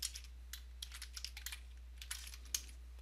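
Rapid typing on a computer keyboard while entering a name into mapping software, a steady run of light, close key clicks with a few louder taps and no voices.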